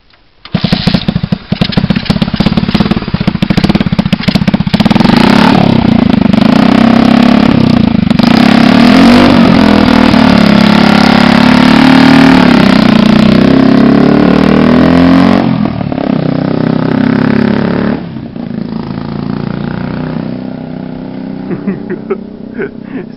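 A homemade wooden motorbike's engine is kick-started and catches at once, running loud and close with a rough, clattering buzz and blips of revving before easing down near the end.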